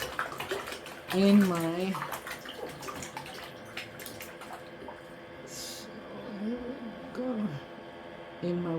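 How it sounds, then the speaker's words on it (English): Water swishes and splashes by hand in an ion detox footbath, soft sloshing under a person talking throughout. "So as I swish the water around"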